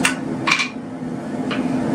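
Three sharp metallic hammer strikes on hot metal on an anvil, one near the start, one around the middle and one near the end, over a steady low hum.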